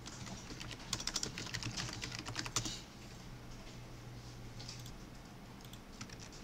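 Computer keyboard typing while working in CAD software, a quick burst of close, crisp key clicks for a few seconds, then quieter isolated taps and a faint hum of the room.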